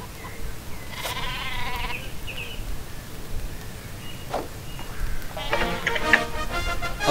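Cartoonish sheep bleats from the super sheep weapon in the Worms Revolution video game, a wavering bleat near the start and a louder burst of bleating toward the end over faint game background.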